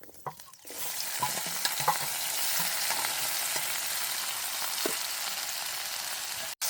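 Steady sizzling of onions and spices frying in hot oil, with occasional stirring clinks and scrapes, continuous and fairly close, no voices.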